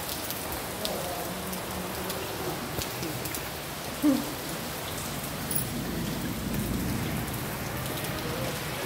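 Steady, heavy rainfall pours down continuously at Bajajnagar, Sambhajinagar, a dense hiss of drops drumming on surfaces with no breaks, close and enveloping.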